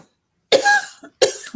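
Two sharp, close coughs, one after the other, separated by a brief pause.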